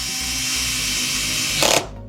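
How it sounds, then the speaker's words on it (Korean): A ratchet tightens the four rear cover screws in close-up, giving a steady clicking whir that ends in a brief louder burst before cutting off. "커버는 틀려졌지만 뒤쪽 나사 4개는 동일하게 또 체결을 해줘야 됩니다."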